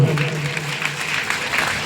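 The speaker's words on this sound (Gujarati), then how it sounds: "જોરદાર તાળી પાડો" An audience at a Gujarati folk dayro in Vadu applauds with steady, dense clapping throughout the short moment, while someone speaks over it on the sound system.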